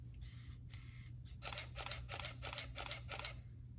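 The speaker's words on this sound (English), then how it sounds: "That's taking like 20 photos right there." A single-lens reflex camera fires a rapid burst at a fast shutter speed, about eight crisp, evenly spaced clicks close to the microphone, preceded by a couple of softer mechanical clicks over a low steady hum.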